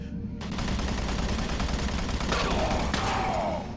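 Continuous gunfire from the video game Doom 3, a dense steady burst of shots lasting several seconds with bright sharp accents near the end, loud and close with no talk over it.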